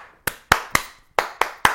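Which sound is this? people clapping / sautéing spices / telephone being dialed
people clapping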